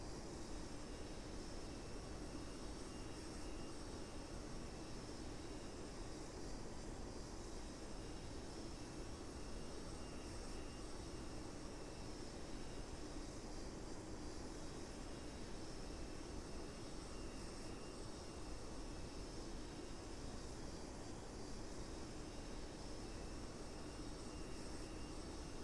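A Mirage F1 jet engine in a flight simulator game, droning steadily at high RPM on landing approach, a continuous broad roar with no change in level and no voices.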